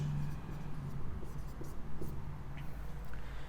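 A pen scratches out the written solution to a class 9–10 general math proof on paper, soft and close, with short strokes over a low steady background hum.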